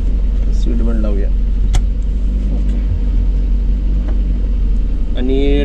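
A car drives along with a steady, close engine rumble running throughout, while a person talks over it and a couple of brief chirpy sounds break through near the start and end.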